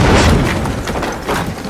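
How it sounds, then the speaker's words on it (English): Loud explosion of a detonator blowing through a wall, a heavy booming blast with rumbling debris and crackling that sustains throughout, with a second swell near the end. "after a loud explosion,"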